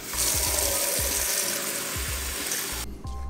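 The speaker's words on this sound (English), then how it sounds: "you're gonna put the water from the faucet" Water gushes steadily from a faucet into a jug for refilling a Keurig coffee maker, a loud rushing stream that stops abruptly near the end.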